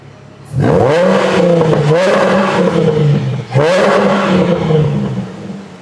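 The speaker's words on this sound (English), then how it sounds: "Give him one more rev and quiet." A Jaguar XF V6 with its exhaust in quiet mode revs twice, each time a loud close roar that climbs and then settles back into a burbling idle.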